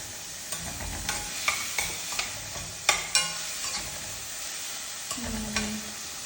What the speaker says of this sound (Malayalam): എന്നിട്ട് ഇത് നന്നായിട്ട് ഇങ്ങനെ വഴറ്റ്